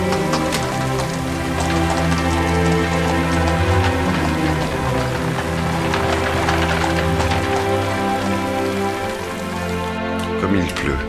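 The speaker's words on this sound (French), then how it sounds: "Comme il pleut." Dense, continuous rain hisses and patters steadily, a loud wash of drops with no pause.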